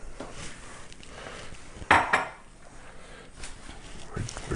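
A sauce whisk and other kitchen utensils being handled, with a brief pair of sharp clattering knocks in the middle against a quiet kitchen background.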